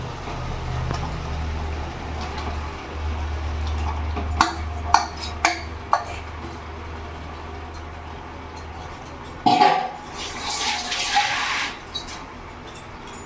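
Marinated chicken goes into spiced oil in a pan and is stirred. Scattered utensil clacks lead to a sudden loud sizzling burst that settles into a quieter frying crackle, with no talking.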